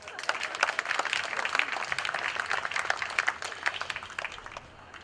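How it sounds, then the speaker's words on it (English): Scattered outdoor clapping from a small crowd at a Hilton groundbreaking ceremony, a brisk round of individual claps that thins and fades toward the end, with faint voices beneath. "So if we can give him a round of applause."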